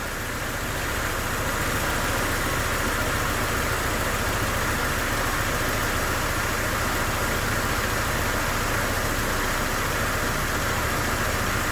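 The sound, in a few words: car engine idling with air conditioning running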